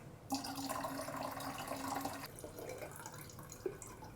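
Water poured into a larger watering can that already holds a little water, a steady faint trickle and splash that changes tone partway through, close by and with no voices.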